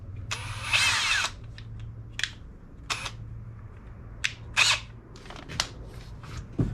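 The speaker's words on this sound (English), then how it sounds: "Holy moly, this new drill is nice." A new power drill drives a screw into a kayak in short whirring bursts, one longer run followed by several brief pulses with quiet gaps between.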